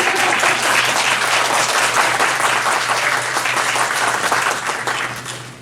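An audience at a talk on strategic questions in therapy breaks into dense, sustained applause that stays loud throughout and fades slightly toward the end.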